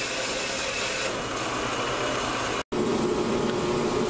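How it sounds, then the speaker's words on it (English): A power saw cuts through a piece of half inch material in a workshop, a dense, loud, continuous rasping roar with a brief cutoff before the cutting resumes. "right now I'm cutting this piece of half inch material"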